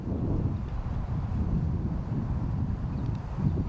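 Wind blows across a disc golf course during a tournament round, heard as a continuous low, blustery rumble buffeting the microphone at steady volume with no voices.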